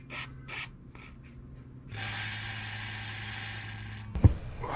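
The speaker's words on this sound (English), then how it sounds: "I'm going to clean up those threads and lubricate those." Metal bolt threads get cleaned with short scraping and rubbing strokes at close range, followed by a longer steady rasp and a sharp knock near the end.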